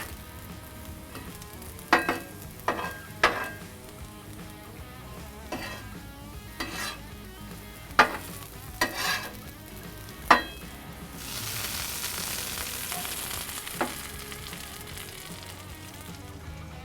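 Peppers sizzling on a griddle while a smash-style burger is prepared, a steady moderate fry hiss broken by sharp clinks and scrapes of a spatula, with a louder, brighter sizzle swelling near the end.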